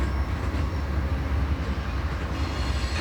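The Amtrak Heartland Flyer, a train of bi-level Superliner coaches with a pushing DPU, departs with a steady, close rumble of rolling wagons and faint rail clatter throughout.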